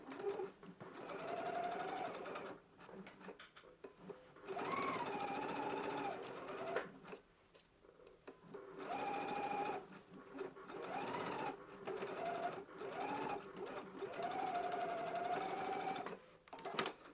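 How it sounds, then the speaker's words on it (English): A sewing machine stitches a 5/8-inch seam in bursts, its fast mechanical whirring running for a few seconds at a time, then stopping in brief pauses, close and clear in a quiet room. "we can go ahead and stitch at a 5/8 of an inch seam allowance"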